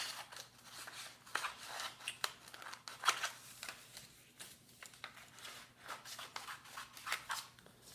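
Scissors snip through folded paper in quick, close, quiet cuts, a rapid series of crisp snips and rustles.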